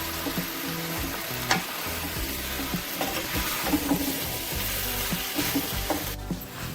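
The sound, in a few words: stir-frying chicken for chow mein in a pan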